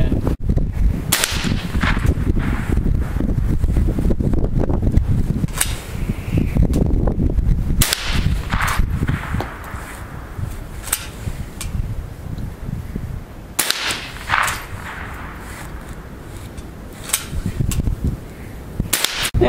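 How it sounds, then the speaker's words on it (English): A Savage Arms Model 74 .22 rifle fires a series of sharp, loud cracks spaced several seconds apart outdoors, with quieter handling sounds between shots. "we're going to shoot the Model 74 Savage Arms again"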